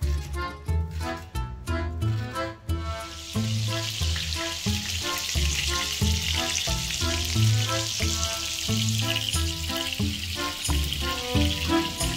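Food sizzling and frying in hand-hammered metal pots at a cooking setup in Esfahan, Iran, a steady hiss running throughout with rhythmic low thumps of music or drumming beneath it.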